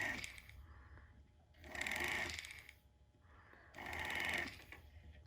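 A rotary bur chamfers the underside of a pave stone setting, giving two soft, high whirring bursts, each about a second long, with quiet gaps between them.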